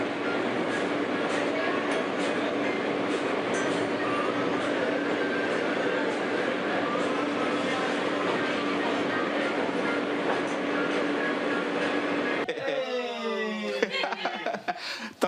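A New York City subway train running: a steady rumbling roar and rattle throughout, with faint talk and laughter under it and a louder, tonal scraping burst near the end.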